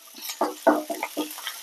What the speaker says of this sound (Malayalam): ഇതൊന്ന് നന്നായിട്ട് വറുത്തെടുക്കാം